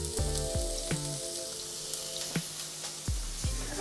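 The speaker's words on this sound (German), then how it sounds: "jetzt werden wir uns mal eben schnell meine optionale Zwiebel anbraten" Onion sizzling and frying in clarified butter in a pan, a busy crackle with occasional sharp clinks and stirring knocks, close up and without voices.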